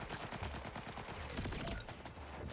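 Automated turrets in the shooter game Borderlands firing a rapid, even stream of shots, heard fairly faintly and steadily for a couple of seconds.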